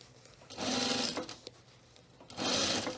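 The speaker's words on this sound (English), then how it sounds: "we're just going to turn it to the right side and edge stitch it" A sewing machine runs in two short bursts of rapid stitching, edge stitching the binding on a fabric notions case, with a quiet pause and a faint tap between runs.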